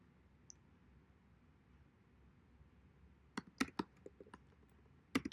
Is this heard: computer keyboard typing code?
yes